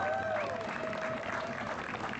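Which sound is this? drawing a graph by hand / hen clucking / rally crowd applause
rally crowd applause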